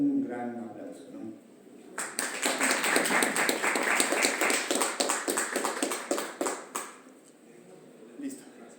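An audience applauds after a lecture at an Andean linguistics conference, with a voice speaking first and then a burst of dense clapping that swells, holds for several seconds and tapers off into scattered claps.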